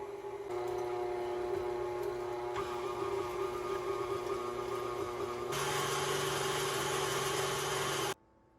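An electric meat grinder pushes cold steak through a finer plate on a second grind. It gives a steady motor hum that rises in pitch partway through and then cuts off abruptly, with no talking.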